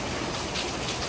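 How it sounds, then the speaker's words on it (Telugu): Steady rain hisses in a dense, even wash during a power cut, with no voices over it and no breaks across the short stretch. "దేవుడు మా కోసం వేడికి తట్టుకోలేక ఇట్లా వర్షం పెట్టించాడు"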